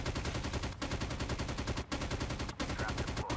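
Sustained PKM machine gun fire in Call of Duty Mobile, a continuous rapid burst broken by a few short pauses between volleys, loud and close.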